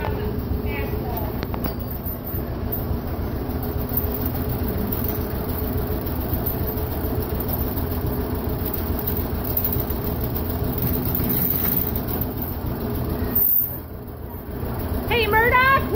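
A John Deere tractor drives on asphalt, its engine a steady loud rumble throughout with a brief dip near the end, and no talking over it.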